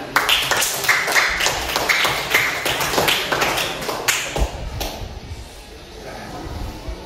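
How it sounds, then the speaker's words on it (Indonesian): An audience claps for a presenting group at a teacher-training session, with a burst of brisk hand claps that thins out and fades into room murmur. "tepuk tangan untuk kelompok 4"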